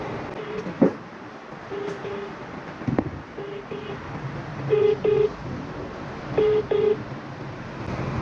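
A phone call is dialed and rings: a few scattered button beeps, then repeated paired ringback tones in a steady pattern over background noise, with a voice murmuring faintly.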